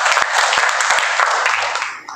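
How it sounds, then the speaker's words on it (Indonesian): A church congregation gives a loud, dense burst of applause for Jesus, many hands clapping together for about two seconds before tapering off. "Berikan tepuk tangan buat Tuhan Yesus."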